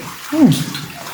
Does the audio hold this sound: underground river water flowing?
yes